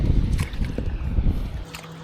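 A small boat moves through water in Hoi An, Vietnam, with a steady low churning and light splashing close by and no talking.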